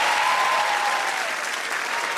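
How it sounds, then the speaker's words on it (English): A television game show studio audience breaks into loud, dense applause, a continuous roar of clapping at close range that stays level for a couple of seconds. "Give them a round of applause."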